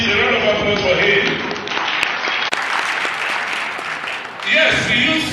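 Audience applause at a political roundtable on the 2023 elections, steady clapping from a seated crowd that swells again near the end, with some background voices mixed in.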